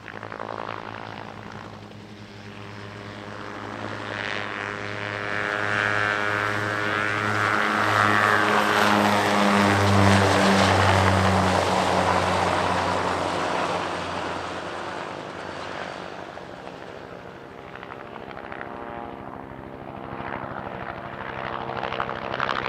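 An aircraft in a Vietnam War scenario display at the Antidotum Airshow in Leszno drones overhead with a propeller-like engine roar that swells to a peak at mid-pass and slowly fades, loud and continuous, with no voices.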